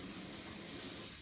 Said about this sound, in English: I just ran this under the water